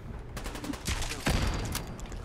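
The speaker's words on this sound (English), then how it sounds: "Have a grenade, asshole." A grenade blast in Fallout 4 goes off as a loud, rough burst layered over crackling gunfire, with a heavier thump about midway, all fairly close and with no voice over it.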